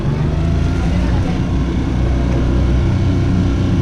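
Four-stroke motor on a small boat, just fitted with a new propeller shaft and propeller, running close by: a loud, steady engine drone with a low rumble and little change in pitch.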